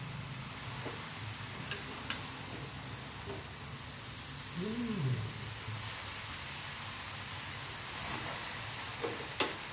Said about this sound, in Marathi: आता त्याला आपण परतून घेत आहे.